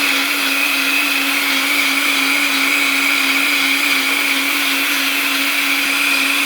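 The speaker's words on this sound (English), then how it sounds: "This is raw foods coming straight out the blender, hot and ready." A blender whirs steadily while blending raw tomato and basil soup, a loud, continuous high-speed motor drone with a constant hum that never changes pitch, close up and with no talking.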